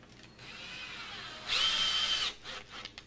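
A power drill drives screws into a door hinge, a whirring run that rises into a louder, higher burst as the screw seats, then stops with a few short trailing whirs, close and clear.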